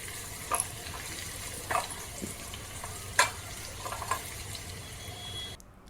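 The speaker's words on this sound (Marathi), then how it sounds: "पाव चमचा हळद घ्यायची आणि तेलामध्ये भाजून घ्यायची" Turmeric and spices roast in hot oil in a pan, giving a soft, steady sizzle with a few brief clinks and scrapes from stirring, fairly quiet and with no talking.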